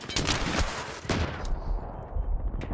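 Several sharp gunshots crack in quick succession in a shooter video game, loud and close, with a brief quieter tail at the end and no talking.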